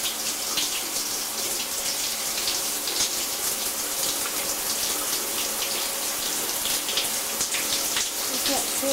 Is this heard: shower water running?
yes